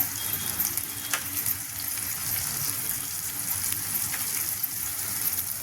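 Green chillies fry in a hot pan for mung dal amti, giving a constant loud crackling hiss with an occasional faint utensil tick and no talking.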